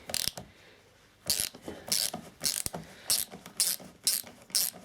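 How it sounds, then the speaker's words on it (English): A hand ratchet clicks in short rapid bursts while undoing Torx security screws on a Range Rover battery, with sharp, close ratcheting runs separated by brief pauses and no talking. "let's undo these screws then"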